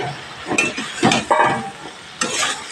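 Fried potatoes, Malabar spinach and okra go into hot oil with cooked-down spices for a chachchari, giving a few bursts of sizzling and stirring scrapes over a steady low frying hiss, close and fairly loud.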